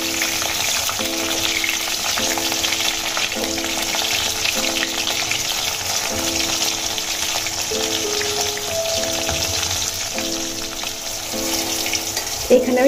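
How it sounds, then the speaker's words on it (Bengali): Pieces of pointed gourd (potol) fry in a pan with a steady, loud sizzle. Repeated light tonal scraping and stirring runs through the sizzle at a regular rhythm, with no talking. "এবার আমি পটলগুলোকে লাল লাল করে ভেজে নেব।"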